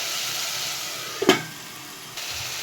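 Tomatoes and ginger paste sizzle steadily in a pan, a loud broadband hiss running throughout with one brief sharp clatter near the middle, no voices.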